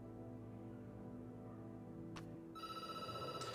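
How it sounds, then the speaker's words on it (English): A telephone ringing in the video game Night Call: after a quiet stretch, a bright electronic ring begins and repeats in short even pulses, clear and fairly close, with no talking. "The phone rings and you jump."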